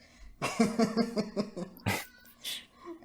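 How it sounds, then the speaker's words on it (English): A cat meows close by in a quick series of short, rising calls, followed by a couple of breathy bursts and a final meow. "He's meowing a little bit"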